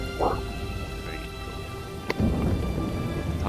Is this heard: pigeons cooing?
no